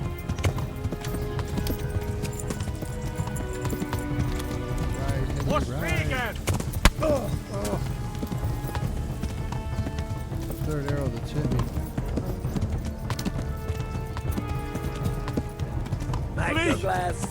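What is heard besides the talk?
horse galloping in the video game Kingdom Come: Deliverance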